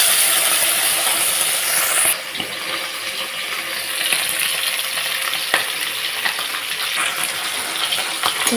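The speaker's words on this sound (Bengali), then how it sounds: "মাছগুলো আগে প্রথমে ভালোভাবে ভেজে নেব" Steady, loud sizzling of boroli fish frying in hot oil in a wok, a continuous crackle with occasional sharper pops and a brief clatter.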